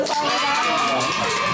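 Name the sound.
applause and cheering as the beef arrives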